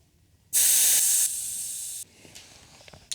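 Air hisses loudly out of a 10-inch scooter tire valve in one sharp, steady burst lasting about a second and a half, then fades to a quieter hiss before stopping.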